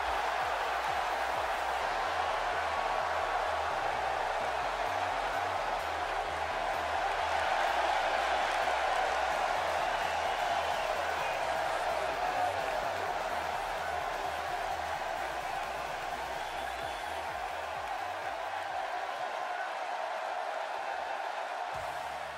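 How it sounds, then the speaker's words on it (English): A fired-up crowd in a WWE wrestling video game arena roars as one steady wall of cheering, loud and unbroken throughout, with a slight swell in the middle. "Listen to this crowd, guys. They're fired up for this one."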